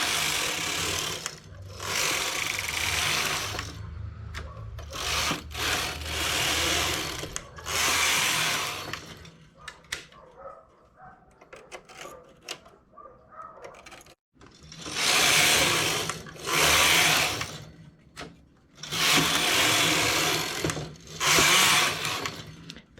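A knitting machine fitted with a comb, working a tulle skirt: repeated loud whooshing carriage passes back and forth, several in a row, with a quieter gap of small mechanical clicks midway.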